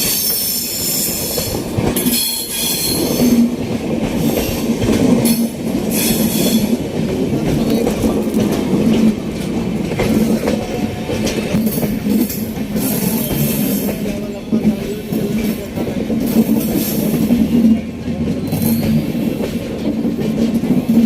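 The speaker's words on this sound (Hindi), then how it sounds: "राजधानी जैसे ट्रेन तीव्र गति से गुजर रही है" An express train of the Rajdhani type races past at high speed on railway tracks beside an overbridge, a loud continuous roar of wheels and wagons with squealing and rhythmic clatter filling the whole stretch.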